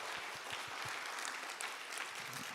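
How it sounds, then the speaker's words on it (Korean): Church congregation applause during a Sunday worship service, a dense, continuous patter of many hands clapping at steady volume for a couple of seconds. "박수 한번 할까요? 우리 하나님께."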